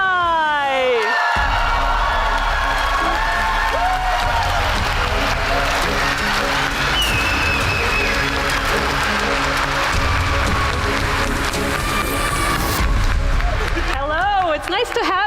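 Audience at a Final Fantasy XIV Fan Festival in London cheering and applauding, loud sustained clapping with whoops and shouts across the hall while a voice speaks over the crowd through amplification.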